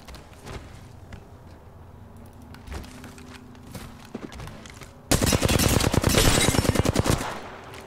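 Video game gunfire arrives as scattered single shots, then as a loud, dense rapid burst of automatic fire lasting a few seconds, with no talking over it.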